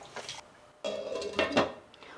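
Pots and pans clatter and clink at a kitchen stove during home cooking, with a brief bang and then a louder run of metallic scraping and knocking, close by with no talk.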